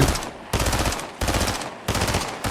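Rapid gunfire in the game Fortnite: three loud sustained bursts of automatic fire, each cut off by short pauses, with no talking.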